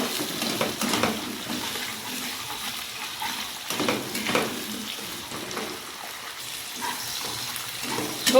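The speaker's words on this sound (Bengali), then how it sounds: "সমস্ত সবজিগুলোকে আমি এবার খুব ভালো করে একটু ভেজে নেব।" Papaya, bottle gourd and pointed gourd being fried and stirred in a pan for rainy-day khichuri, a steady close sizzle with repeated spatula scrapes and clatters throughout, no talking.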